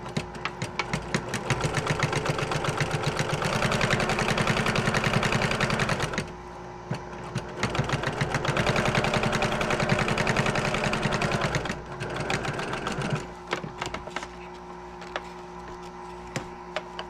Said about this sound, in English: I'm quilting this before I sew it together.